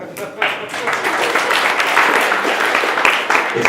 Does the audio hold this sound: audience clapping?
yes